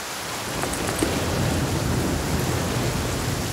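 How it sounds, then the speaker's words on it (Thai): Steady heavy rain and rumbling thunder from the video game The Flame in the Flood, a dense continuous wash of downpour with a low roll of thunder beneath, no voices. "ฝนเมื่อไหร่จะหยุดตกเนี่ย"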